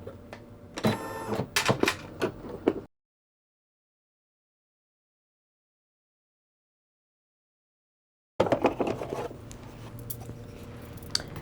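A 4x4 embroidery machine stitches out a small hand sanitizer snap tab, its needle chattering in rapid mechanical bursts, cut off by a long stretch of silence before the stitching resumes.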